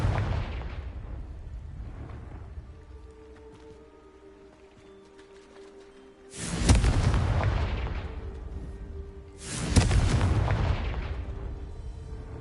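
Two heavy blasts from a Confringo blasting spell in a Harry Potter-style video game, each a sudden loud boom that decays over a few seconds, following a fading earlier rumble.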